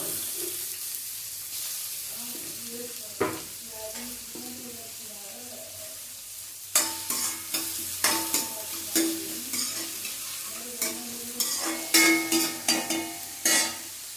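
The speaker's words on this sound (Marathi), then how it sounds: "त्याला मस्त लाल परतून घ्यायचं आहे कांद्याला" Onion and chili frying in a pan for a red amaranth stir-fry: a soft continuous sizzle, then a run of sharp, repeated spatula scrapes and stirring knocks against the pan, close and distinct.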